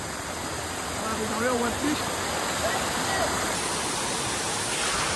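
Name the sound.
waterfall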